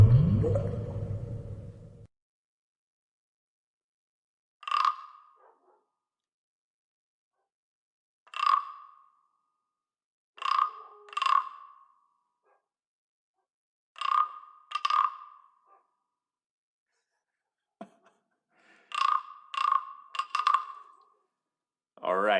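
A wooden frog percussion instrument is scraped in short ribbit-like rasps, single and paired, spaced out with silent gaps after a brief burst of talk at the start.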